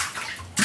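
Running water pours out in a brief, close, loud rush of broadband hissing that surges stronger at the end, with no voices.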